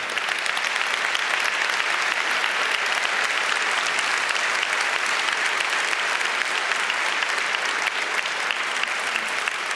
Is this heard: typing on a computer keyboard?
no